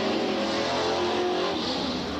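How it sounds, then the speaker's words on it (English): Late model super stock race cars roar steadily down the main straightaway at a 1993 Freedom short-track race, a continuous loud engine drone with no break in volume. "Don Wagner in the 0 car pulls away as he comes down the main straightaway"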